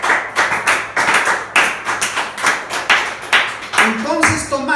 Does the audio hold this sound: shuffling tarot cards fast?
no